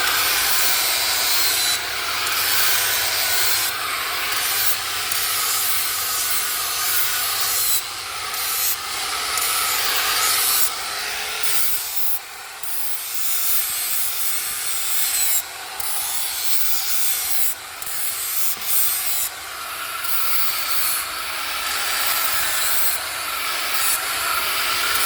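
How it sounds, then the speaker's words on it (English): A flap disc on an angle grinder works metal while a blacksmith sets up a forge, producing a loud, continuous abrasive hiss and rasp with brief dips as the disc lifts off the workpiece. "I'm using a flapper disc, but you can use a normal grinding disc."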